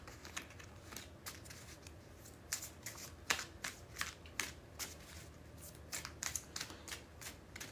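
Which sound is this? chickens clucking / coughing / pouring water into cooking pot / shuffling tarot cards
shuffling tarot cards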